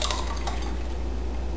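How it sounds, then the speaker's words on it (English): Yogurt culture is stirred into milk with soft liquid swishes and faint clinks of a utensil against the container over a steady background hum, with no talk. "we're just going to stir that back into our milk, just like that"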